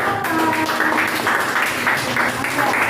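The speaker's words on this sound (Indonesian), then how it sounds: "Oke, tepuk tangan." A classroom group claps together in a steady burst of applause, fairly close, with some voices mixed in underneath.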